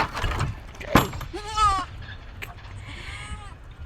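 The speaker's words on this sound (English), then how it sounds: "So guys, all these are goats" Goats in Maasai Land bleat near and far in several quavering cries, one sharp clatter beforehand and a fainter bleat trailing off at the end, with bits of nearby speech.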